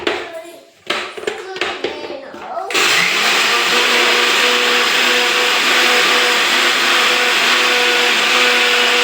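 A kitchen mixer grinder starts up after a few seconds of handling knocks and a brief voice, then runs loud and steady, whirring as it grinds green chillies until the end.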